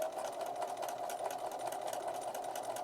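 A sewing machine stitches fabric for a Christmas tree mug rug, running steadily with a fast, even mechanical whir and rapid needle clatter, close and alone throughout with no talking.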